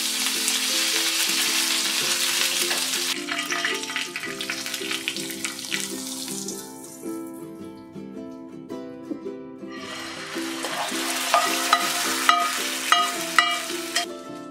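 Fenugreek seeds, dried red chillies and curry leaves fry in hot oil for vada pulissery tempering, giving a steady close sizzle and crackle that swells and fades across the clip, with no talking.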